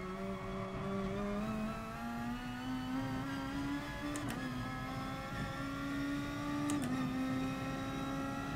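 Simulated race car lapping the Nordschleife in Gran Turismo Sport, its engine drone rising steadily in pitch as it accelerates, with two brief upshift dips near four and seven seconds, steady and continuous with no talk.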